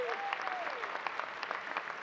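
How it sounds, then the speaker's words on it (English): Crowd applauding steadily at a teachers' union conference, many hands clapping at once, with a brief whistle near the start. "let's give a round of applause to my friend, Michael Mulgrew"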